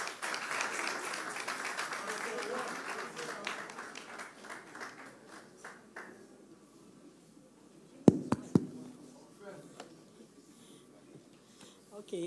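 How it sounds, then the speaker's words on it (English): An audience at a trade union forum claps after a prayer. The applause is fairly full at first, then thins and fades into quiet, broken by a few sharp knocks. "Round of applause for her."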